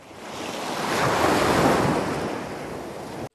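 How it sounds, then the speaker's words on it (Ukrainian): Sea waves wash in a broad, rushing roar that builds, peaks in the middle and slowly recedes, with some wind noise and no talking. "шум моря"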